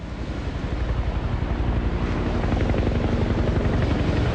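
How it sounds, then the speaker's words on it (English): A helicopter flies overhead in the aftermath of a tornado. Its rotor gives a steady, rapid thumping beneath gusty wind noise, loud and sustained throughout. "Oh my God, a helicopter."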